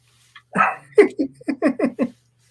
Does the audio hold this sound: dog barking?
yes